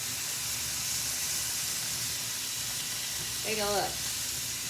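Steaks sear in a hot pan with a steady, fairly loud hiss and sizzle running throughout, while a person speaks briefly near the end.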